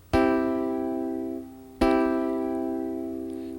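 Two full root position triads are struck on a keyboard one after another, each ringing out and slowly fading, close and clear with no talking.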